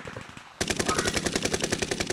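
Rapid automatic gunfire from Call of Duty Warzone erupts suddenly after a brief quiet stretch, a loud, dense, continuous burst of shots that runs to the end.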